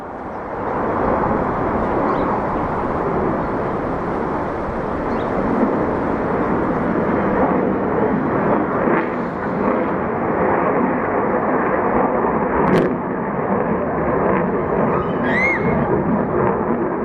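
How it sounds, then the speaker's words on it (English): Fighter jet flying overhead in Arlington, Virginia, a loud sustained roar that fills the whole stretch, heard from the ground without speech. "Here comes a fighter jet."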